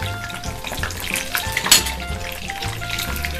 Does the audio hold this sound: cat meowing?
no